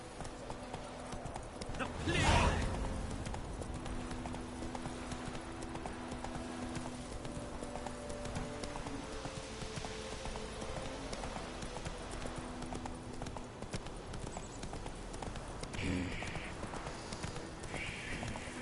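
A horse's hooves clip-clop steadily in the Witcher 3 video game, a regular trotting rhythm over game ambience with music-like tones, and a brief louder thump early on.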